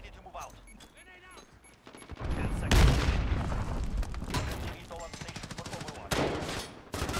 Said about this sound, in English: someone just shot at me